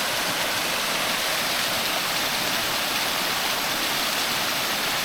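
Folly Dolly waterfall heard from close by, a steady broadband rush of falling water, even and unbroken throughout, with no voices.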